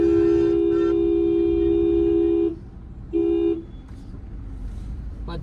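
A vehicle horn blares in one long steady blast on a busy road, then gives a shorter second toot, loud and close, with traffic rumbling underneath.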